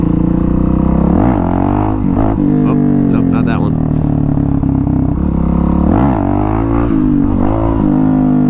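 A Suzuki DRZ 400SM supermoto engine roars loudly and close, rising and falling through several hard revs as it pulls a wheelie in second gear.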